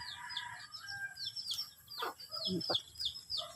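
Chickens cluck and chatter softly while being fed on a farm in the province, a steady run of short calls with a few sharper nearby squawks, faint and without talking over them.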